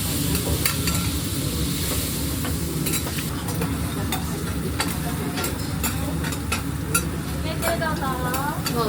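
Spicy noodles sizzling on a hot griddle in an okonomiyaki restaurant, a steady close frying hiss with scattered utensil clinks and scrapes, and voices chatting in the background.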